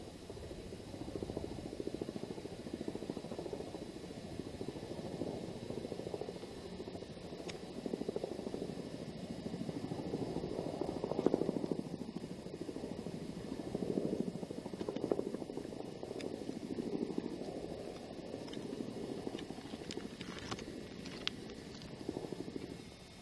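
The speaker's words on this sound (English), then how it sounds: "We've got some big Marine Chinook helicopters coming through." Big Marine Chinook helicopters pass overhead, giving a continuous low rotor rumble that swells and fades gently over the whole stretch, moderately distant and steady, with no talking.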